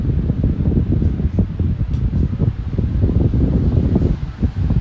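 A NewAir 18-inch high-velocity electric fan whirs at medium speed, with a continuous low rushing hum and faint fluttering from the blades, close and alone.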